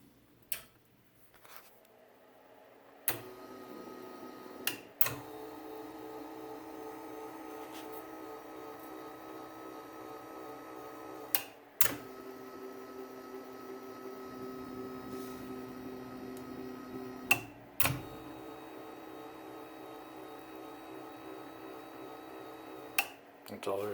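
A mini milling machine's Y-axis power feed hums quietly and evenly, a low motor drone that runs on while several sharp clicks and knocks break in at intervals.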